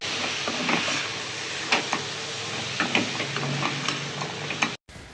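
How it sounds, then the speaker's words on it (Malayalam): A spoon stirs soaked green peas into a sizzling curry in a pan, with steady hissing and scattered scraping clicks throughout, close and continuous, then an abrupt stop near the end. "എന്നിട്ട് ഒരു ഗ്രീൻ പീസും കൂടെ ചേർത്തിട്ട് നന്നായിട്ട് എല്ലാം കൂടെ ഒന്ന് ഇളക്കി യോജിപ്പിക്കാം."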